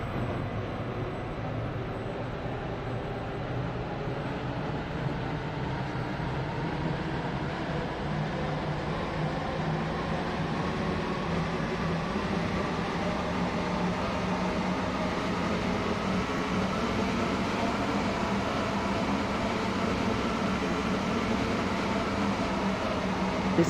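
A Waterline train in the Roblox game Stepford Country Railway runs with a steady, even rolling hum and hiss heard from on board, continuous throughout.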